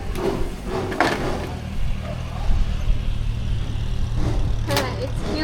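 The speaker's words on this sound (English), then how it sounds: "Oh, there's a truck there." A small Suzuki truck pulls up to deliver concrete blocks to a house under construction in the Philippine countryside, its engine rumbling low and close with a few sharp clanks, while people chat nearby.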